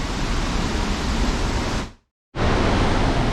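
Waterfall at Clifty Falls State Park roars as a loud, steady broadband rush heard from beneath the cliffs, cutting out abruptly for a moment before resuming at full strength.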